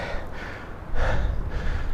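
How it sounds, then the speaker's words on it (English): After inline skating in the cold, a man breathes heavily, with close, loud, rhythmic gasping breaths repeating about every half second and no talk. "will I be too embarrassed of all the heavy breathing"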